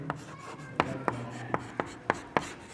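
Handwriting of trigonometry working, a string of crisp pen strokes and taps about every quarter second, close and fairly soft, with no talking.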